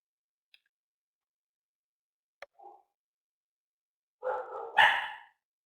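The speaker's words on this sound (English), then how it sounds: "Damn dog. Forgot to take him out of my room." A dog barks indoors, starting with a couple of faint, brief yips and then finishing with two louder, closer barks near the end, with quiet between them.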